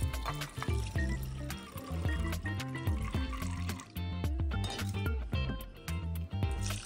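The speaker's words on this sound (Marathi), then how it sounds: "मुगाच्या डाळीमध्ये आपण पाणी घातलंय आणि ही 2 तासासाठी आपण आता भिजत ठेवायची।" Water poured into a bowl of washed moong dal for soaking, a close trickling and splashing fill with quiet clinks, steady and fairly soft, heard alone for most of the time.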